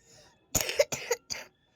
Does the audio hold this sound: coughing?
yes